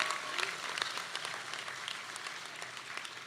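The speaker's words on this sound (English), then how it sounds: "let's give your loved ones a round lot of applause to all the support they've given you" Graduation audience at a 2022 community college commencement applauds for their loved ones, a steady wash of many hands clapping at moderate distance throughout, with no speech over it.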